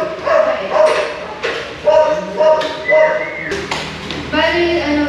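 Dogs bark in a series of repeated, close, loud yips and barks with short gaps, heard alone.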